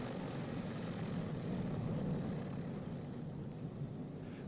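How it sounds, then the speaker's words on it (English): A Boeing B-29 Superfortress radial piston engine drones steadily as one throttle is brought back to 700 RPM during an engine run-up, a constant heavy rumble with no talk over it. "Back to both and return the number 1 throttle to 700 RPM"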